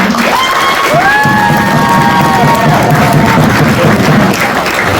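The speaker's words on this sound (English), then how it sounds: "One more round of applause for all of them." A high school theater audience after an Alice in Wonderland performance bursts into loud applause with cheering, whoops and high shouted voices layered over dense, continuous clapping.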